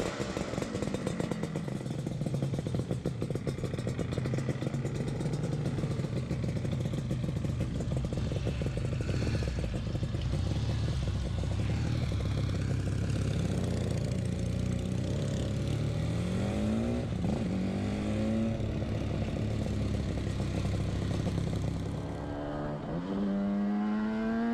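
A 1982 Yamaha RD 250 LC, a liquid-cooled 250cc two-stroke twin, drones steadily up close with a buzzing, clattery tone, then rises in pitch through several revs near the end.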